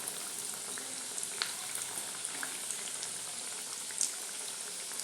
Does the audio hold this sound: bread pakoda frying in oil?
yes